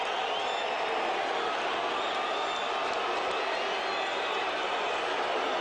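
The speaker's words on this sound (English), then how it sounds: "a lot of people are clapping here" A large boxing arena crowd in Tijuana, Mexico, claps and cheers after the Barrera vs Morales fight, a broad steady roar of applause and voices heard at a distance and continuing without a pause.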